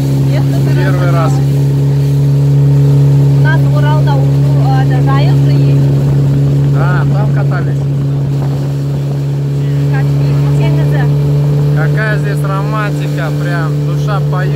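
A motorboat engine drones steadily and loudly throughout on the Ili River near Tamgaly Tas, with people talking over the constant hum.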